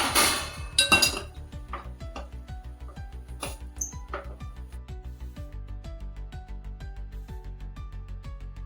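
Rice flour dough for kurdai steaming in a pot is stirred with a utensil, giving a steady run of close, rhythmic metal clinks and scrapes against the pot, a denser clatter at the start, no voices.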